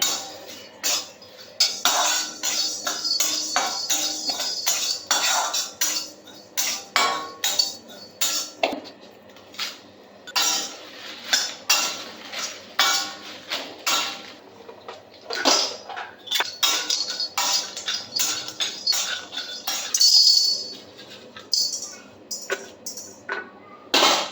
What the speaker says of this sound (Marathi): आता मी किंचितसं तेल टाकून सगळे मसाले एक एक करून भाजतीये.